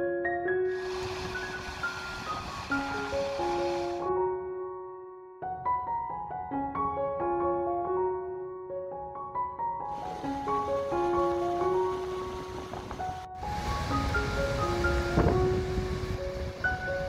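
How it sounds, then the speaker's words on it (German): Broad rushing roar of Goðafoss, a wide horseshoe-shaped waterfall in Iceland, swelling in and out in separate stretches beneath louder melodic music. "Oderfoss, ein schöner Wasserfall in Hufeisenform"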